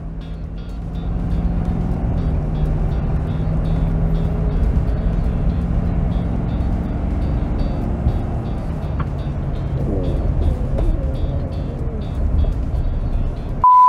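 A Ford F-250 pickup with the 6.7L Powerstroke diesel pulls a trailer under full throttle from about 60 km/h, a steady loud engine drone with rising rumble and road noise throughout.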